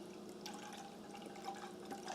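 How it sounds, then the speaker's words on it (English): Chicken broth poured into the bin of a Typhur Sync air fryer after a roast, a soft faint trickle and splash of liquid running steadily for a couple of seconds, with no talking. "I'm just going to add some"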